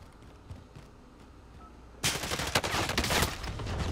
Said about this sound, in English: Incoming fire! I just got shot at.